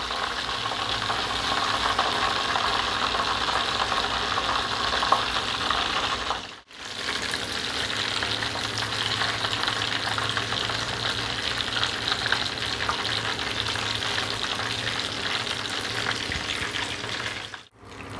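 Batter-coated eggplant fritters (beguni) fry in hot oil, a loud, dense, continuous crackling sizzle that runs steadily, cut off briefly twice.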